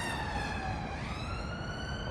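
Police car siren on a road, wailing faintly from some distance with a steady rising and falling tone over a low rumbling background.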